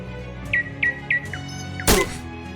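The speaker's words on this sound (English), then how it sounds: "Man, I get hit by a wrench." A wrench strikes the player character in the Shadows Over Loathing video game with a single hard thunk. Several short chirpy whistle tones come just before it, and the sound is clear, close and without talk.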